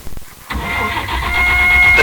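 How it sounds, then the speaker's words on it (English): Car engine stalling as a radio drama sound effect, with a car stuck on railway tracks: a short mechanical sputter, then a steady, loud engine-like rumble with a thin whine that rises to the end. "something went wrong with the car. It stalled right on the tracks"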